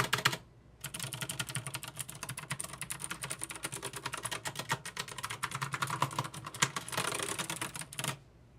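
Fast, uneven clacking of keys on an XSOL mechanical backlit gaming keyboard with removable switches, close and crisp, with short bursts and brief pauses and no voices.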